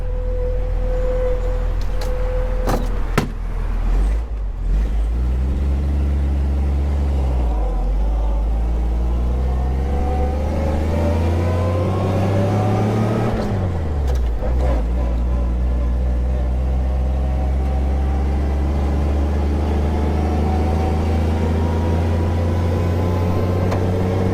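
The engine of a 1934 Dodge car runs steadily, its pitch rising and falling as it revs up and settles back, loud and close, with no talking.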